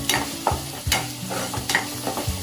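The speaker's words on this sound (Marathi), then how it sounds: "तिला चांगले भाजून घ्यायचं आहे कांदा आणि आलं लसूणची पेस्ट" Onion with ginger-garlic paste sautés in a pan, a soft sizzle under rhythmic stirring strokes, about six spoon scrapes and taps spaced roughly half a second apart, close and without speech.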